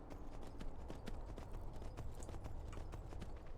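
Horse hooves galloping in the Skyrim video game, a rapid, steady clip-clop rhythm that continues throughout at moderate, close volume with no talking.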